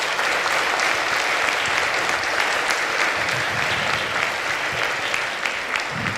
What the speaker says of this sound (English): Let's give a round of applause for our two presenters.